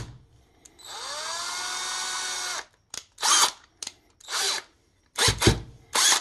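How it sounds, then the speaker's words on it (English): A power drill whirs in a sustained run, then in several short bursts that start and stop, close up and loud with no talking, spinning a Lee Precision case length gauge in a sized cartridge case. "spin the case length gauge inside the drill"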